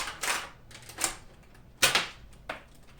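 A Nerf Vulcan EBF-25 blaster firing in single-fire mode, four separate sharp mechanical bangs spaced under a second apart, loud and close with no talking.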